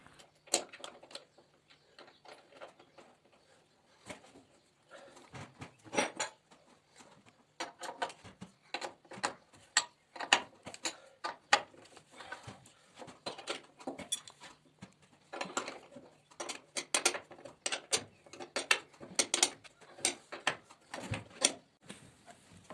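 Nuts and large washers being tightened onto drilled bolts on a wooden beam for a staircase to a second floor, heard as a steady run of sharp metallic ticks and clicks with brief pauses, fairly close and alone.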